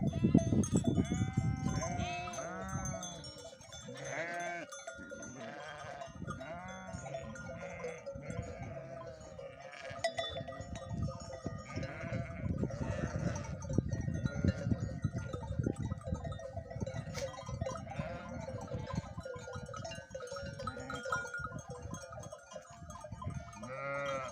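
A flock of sheep and rams on a highland summer pasture bleats continuously, many overlapping calls near and far, with faint bells among them.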